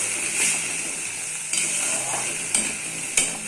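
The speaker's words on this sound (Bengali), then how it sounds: "এবার আমি পেস্টটা ওর মধ্যে দিয়ে দেবো। দিয়ে এটাকে ভালো করে একটু নাড়াচাড়া করব।" A spice paste fries in hot oil for a cauliflower-leaf dish, hissing with a steady sizzle while a utensil stirs it, with a few clinks against the pan, close and continuous, no talking.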